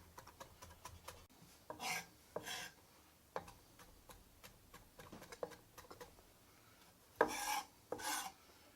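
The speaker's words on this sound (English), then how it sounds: "some nice fresh parsley. Get that nice and finely chopped." A knife finely chopping fresh parsley on a board, giving soft rasping strokes and taps in loose irregular bursts, close by and fairly quiet, with quieter gaps between the runs of cuts.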